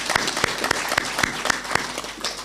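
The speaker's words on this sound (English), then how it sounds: "Can we give them a clap?" Audience applause at a Meru University of Science and Technology gathering, honoring the council and vice-chancellor: a steady burst of many hands clapping, fairly close and moderately loud, with no talk over it.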